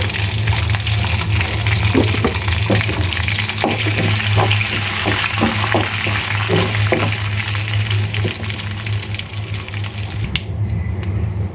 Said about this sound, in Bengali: আমার পাঁচফোড়ন বাজা হয়ে গিয়েছে